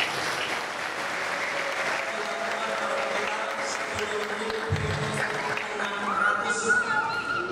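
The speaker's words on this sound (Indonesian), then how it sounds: "Tepuk tangan untuk paroki kita." A church congregation at Sunday Mass applauds for their parish, a broad, even wash of many hands clapping that fills the space, with some voices murmuring beneath it.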